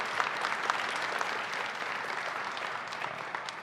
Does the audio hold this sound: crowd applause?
yes